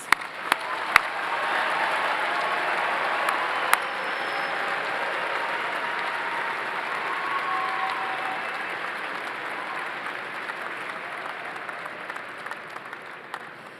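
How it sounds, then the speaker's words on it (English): A long, sustained round of audience applause at a university commencement ceremony, steady and even throughout, with a few louder individual claps close by early on and the crowd gradually thinning toward the end. "Let's give them all one more round of applause."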